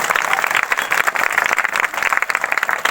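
A church congregation claps loudly during a healing service, a bright, rhythmic patter of many hands that pulses steadily throughout.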